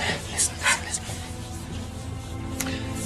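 A dog in a war film scene gives a few soft panting breaths and small whimpering sounds, close and brief, with quiet background music beneath.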